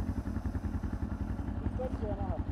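Yamaha XT660 single-cylinder motorcycle, about 50 horsepower, idling nearby with a steady chugging pulse and a brief rattle, while people talk over it.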